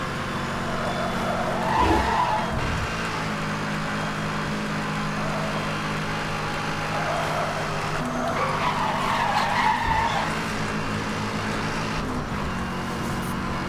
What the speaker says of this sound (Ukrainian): Прискорююсь. Я вже на максимальну швидкість виїхав.